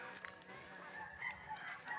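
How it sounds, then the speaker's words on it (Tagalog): Many chickens in a breezy rural yard in the countryside make faint, overlapping clucks and squawks, scattered and somewhat distant over a steady wind-like background. "Makikita mo yung mga manok. Sobrang dami."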